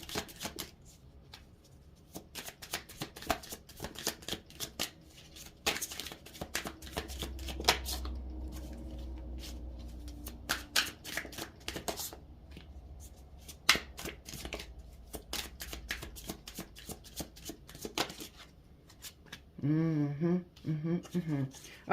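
A blue deck of tarot cards is shuffled in repeated quick riffling bursts and soft taps, close and fairly quiet, with a voice briefly speaking near the end.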